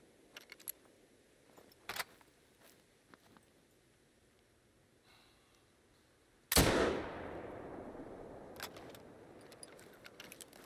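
A single loud gunshot in the hunting video game Call of the Wild, a sharp blast with a lingering echoing tail, preceded by faint clicks and small knocks in a quiet outdoor setting.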